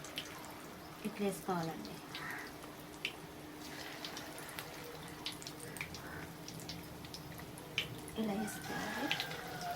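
Small corn vadas, fritters of ground fresh maize, go into hot oil and fry with soft sizzling and bubbling bursts beneath a person speaking in a home kitchen.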